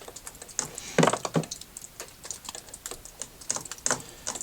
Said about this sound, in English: so now we'll go ahead and tighten up our drain plug again